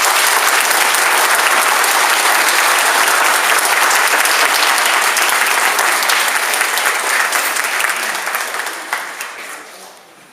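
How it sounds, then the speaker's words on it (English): An audience breaks into sustained, loud applause for students at a 6th grade school awards ceremony, the clapping steady for about eight seconds before tapering off at the end. "Let's give all these students a big round of applause."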